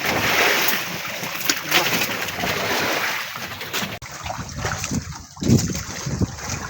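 Choppy, storm-driven waves slosh and splash steadily around a small boat out on the water, a continuous broadband wash with irregular slaps and one louder splash near the end.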